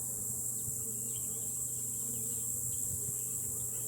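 Honey bees buzz at an open beehive, with a steady close hum and small rises as individual bees pass near, alone without speech.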